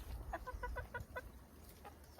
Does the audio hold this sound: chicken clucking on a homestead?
yes